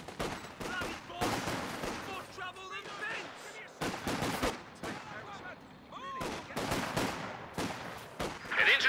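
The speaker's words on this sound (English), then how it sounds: "Infantry firing at us." Infantry gunfire crackles in the strategy game Company of Heroes, with repeated rifle and machine-gun bursts at varying distances and quieter gaps between volleys.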